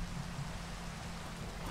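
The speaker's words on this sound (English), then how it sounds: "And now it's raining." Rain falls in the video game Minecraft, a constant soft hiss of steady rainfall with no distinct drops, even in loudness and fairly quiet for its short length.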